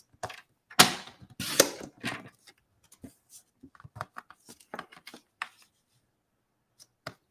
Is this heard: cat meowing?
no